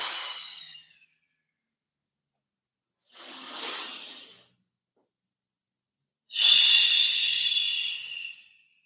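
Slow, breathy inhales and exhales during a seated yoga twist come in three separate airy breaths with silence between them, the last one longest and strongest.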